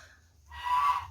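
A goose gives a single loud, nasal honk, rising out of a quiet background with a low rumble beneath it.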